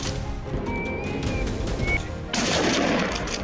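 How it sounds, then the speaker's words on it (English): A hunter's gunshot aimed at wild boars in a snowstorm cracks once sharply after a brief whistling tone, followed by a loud broadband burst of rumble and noise. "A gunshot rang out, causing the lead boar to spin and collapse"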